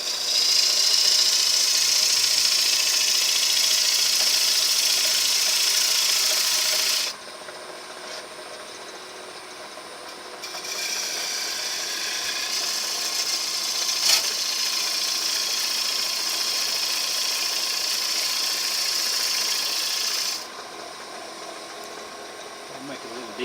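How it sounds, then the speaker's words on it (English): A wood lathe spins a sycamore bowl blank while a tool cuts the tenon, giving a steady bright hiss of cutting that stops for a few seconds partway through and then resumes, over the low hum of the running machine. "now I'm ready to cut the tenon."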